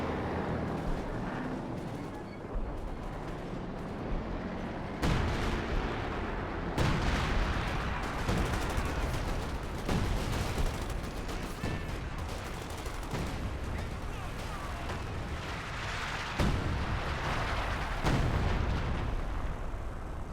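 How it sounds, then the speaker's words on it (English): Artillery fire in the real-time strategy game Company of Heroes 2, heavy booming blasts and rumbling explosions rolling continuously in a dense battle mix, with a commentator's voice partly underneath. "And more artillery is coming in."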